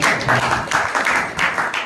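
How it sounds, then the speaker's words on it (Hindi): An audience at a business plan presentation claps loudly and steadily, a dense wash of applause that continues without pause and without talk. "तो एक बार जोरदार ताली हो जाए हमारी।"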